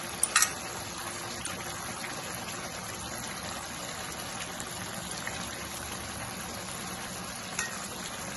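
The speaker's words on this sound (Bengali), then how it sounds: "এখানে আমি জল দিয়ে দিয়েছি যাতে আলু আর পেঁপেগুলো ভালো করে সিদ্ধ হয়ে যায়" Potatoes and papaya boil in water in a cooking pot, giving a faint, steady bubbling hiss that runs evenly throughout, with a couple of small clinks near the start.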